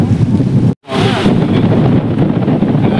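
Breeze blows under a tree beside a road, coming as loud, steady gusts of wind buffeting the microphone, with one abrupt brief dropout early on.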